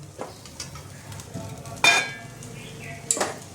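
Pieces of fried fish go into a pan of sizzling mustard-poppy seed masala, giving a sharp burst of frying crackle with light stirring and clinks of utensils around it, nearby and moderately loud.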